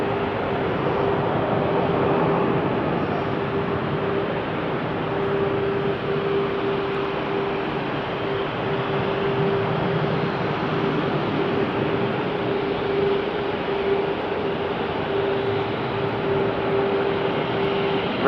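An Airbus A340-600 taxies on its own power at Amsterdam Schiphol Airport, a steady, even engine roar and rumble with a sustained whining tone running throughout, heard from a moderate distance with no voices.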